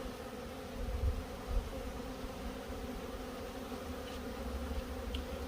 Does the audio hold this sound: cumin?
no